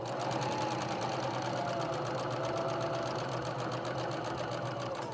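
A sewing machine stitches steadily across the bottom of a fabric pocket, a loud, close, continuous rapid whirring and chattering hum that runs unbroken throughout with no talking.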